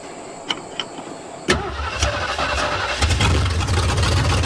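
A 1973 Mustang Mach 1 engine cranks with a starter whir on a battery charger, then catches and settles into a steady, close running rumble that grows slightly louder toward the end.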